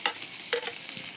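Ginger and garlic hit hot mustard oil with frying onions, giving a steady crackling sizzle with two sharp stirring scrapes, close and without talk.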